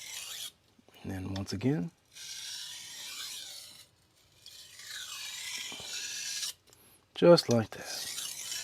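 A carbon steel santoku is sharpened on a coarse 320 grit whetstone, giving short rhythmic rasping strokes in bursts that alternate with someone talking, and the scraping is close and fairly quiet.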